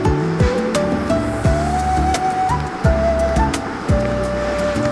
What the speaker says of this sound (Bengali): এখন আমি মাংসটা ঢেলে দিলাম।